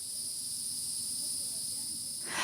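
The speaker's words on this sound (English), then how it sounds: "in the late afternoon, the cicadas scream the loudest" Cicadas in the late afternoon near the Everglades, a steady high-pitched buzzing drone that holds for about two seconds before a brief rush of noise at the end.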